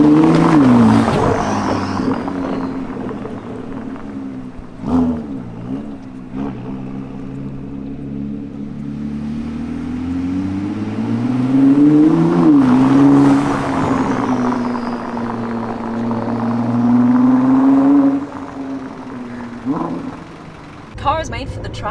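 Ford GT sports car engine revving and pulling away in first gear, a strong harmonic drone that climbs and falls in pitch, with occasional exclamations from people inside over the engine.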